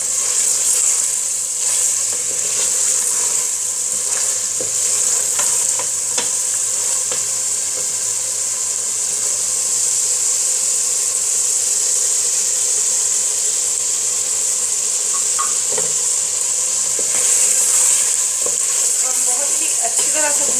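Mutton sizzles in oil in a pot while degi mutton korma is cooked, a continuous bright frying hiss with occasional stirring scrapes and soft crackles throughout.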